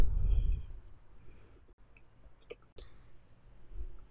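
A computer mouse button clicks a couple of times, giving sharp, isolated clicks over faint room noise while working in Tinkercad.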